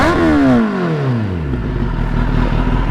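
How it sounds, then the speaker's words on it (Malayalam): A Kawasaki ZX10R inline-four sport bike with a dB killer fitted revs sharply, its engine note falling as the throttle closes, then settling into a loud, steady, close idle. "ജസ്റ്റ് ഒന്ന് റെവ് കൊടുത്ത് നോക്കാം."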